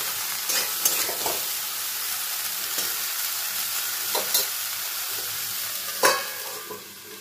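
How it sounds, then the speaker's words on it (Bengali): Water lily stems with coconut stirred in a hot cooking pan: continuous close sizzling with intermittent spatula scrapes and clacks, one louder knock near the end, no voices. "শাপলাগুলো দিয়ে নাড়াচাড়া করে আমি এটাকে কিছুক্ষণের জন্য ঢেকে দেব।"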